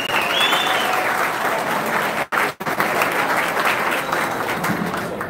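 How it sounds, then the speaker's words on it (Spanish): A crowd applauds a campaign candidate for mayor of Santo Domingo Oeste at the opening of his campaign office, steady loud clapping that runs throughout with two brief sharp dropouts midway. "Rápido, Miguel Trujillo, un aplauso para él."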